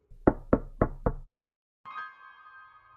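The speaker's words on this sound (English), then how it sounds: "4 knocks in quick succession." Four quick, evenly spaced knocks on a motel room door, loud and close, followed after a short pause by a faint, sustained ringing tone.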